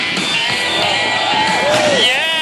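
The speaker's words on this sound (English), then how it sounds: "Everybody, make some noise for Josh" A crowd at a motorbike stunt show in Preston cheers, whoops and shouts for a rider, a loud, dense wash of voices with rising yells standing out over steady crowd noise.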